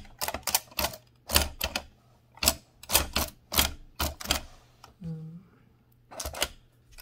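A 1925 AEG Mignon 4 index typewriter clacks through a series of sharp, close mechanical strikes in uneven bursts, with one brief vocal sound partway through.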